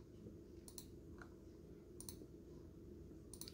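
Computer mouse clicking during an online reading assignment, a few quick faint clicks in small clusters against a steady low background hum.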